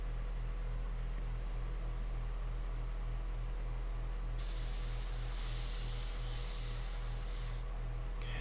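An airbrush sprays India ink onto paper for a portrait painting, giving a steady close hiss with a faint pulsing compressor hum beneath it. The spray grows brighter and louder for a few seconds partway through.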